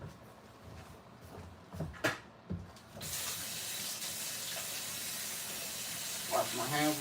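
Hands are washed under a running kitchen tap: a few knocks and clinks at a sink, then a steady, close hiss of flowing water that runs to the end, with faint splashes.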